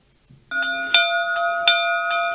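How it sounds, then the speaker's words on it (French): The bell of the Saint-Grégoire-le-Grand chapel in the village of Kapiri rings loud and close, with several clear metallic strikes that each ring on and overlap, and no voices. "Au son de la cloche de la chapelle Saint-Grégoire-le-Grand, presque toutes les activités s'arrêtent au village Kapiri"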